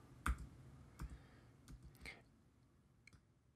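Computer keyboard keys pressed while working in the Pico-8 music editor: a handful of faint, sparse, separate clicks spaced irregularly, quiet and close, with no talking.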